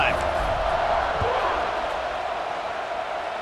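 Stadium crowd roaring in a college football video game against Arkansas, a steady broad wash of cheering that fades slightly, with a commentator talking over it and a brief thump near the start.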